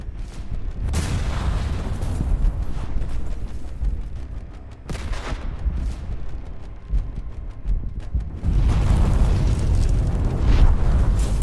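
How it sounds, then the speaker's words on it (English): A drone-dropped bomb blasts an armored personnel carrier during a battle against an armored column. Loud, rumbling booms sound across a dense, noisy battlefield, with a sharp burst near the start, another around five seconds, and a heavier roar in the last few seconds. "One drone drops a bomb directly on the APC."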